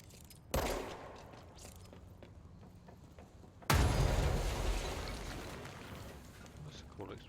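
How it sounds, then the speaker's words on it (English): Two sharp explosions in a video game, each a sudden loud boom with a fading rumble, the second heavier and longer, amid quieter game ambience. "That's a cool explosion."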